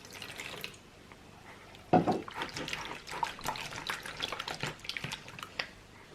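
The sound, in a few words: warm water being added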